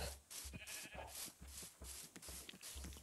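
Sheep bleating in the Minecraft video game, several short bleats over a steady rhythmic background of game music or footsteps, fairly close and clear with no talking.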